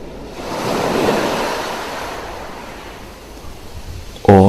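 Ocean waves wash onto a beach in a soft, continuous surf roar that swells early and slowly recedes, with light wind and a short tonal sound right at the end.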